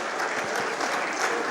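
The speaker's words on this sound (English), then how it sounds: "Crowd filtering in, nice crowd for the game here tonight at Elizabeth Forward High School" Sustained applause from the crowd at a boys high school basketball game, Laurel Highlands at Elizabeth Forward High School, fills the gym with dense, even clapping throughout.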